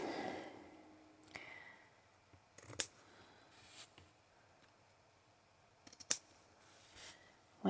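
Scissors snip ribbon tails on a handmade Christmas card, giving a few sharp, quiet cuts spaced apart amid soft handling noises.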